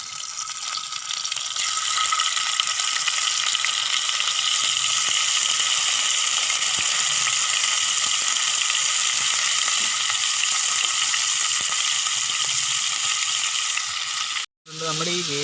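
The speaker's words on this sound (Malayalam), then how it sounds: "നമുക്ക് അതിൽ ഫ്രൈ ചെയ്ത് നോക്കാം" Fish frying in hot oil with curry leaves, a loud steady sizzle and crackle that holds unbroken for the whole stretch before cutting off abruptly near the end.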